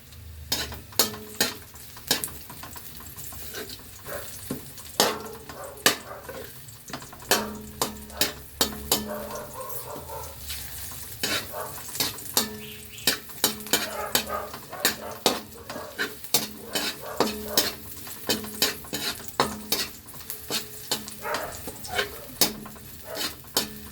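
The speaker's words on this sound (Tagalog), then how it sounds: "Then, lagay natin yung pork. Ayan, igigisa." Pork sautéing in a pan for monggo, a low sizzle under constant clattering as a utensil scrapes and taps the pan in quick irregular strokes, close and busy, with no one speaking.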